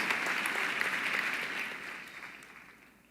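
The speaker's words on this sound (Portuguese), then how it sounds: "Vamos aplaudir o Senhor." A church congregation at a conference applauds, steady clapping from many hands at a moderate distance that fades out over about three seconds.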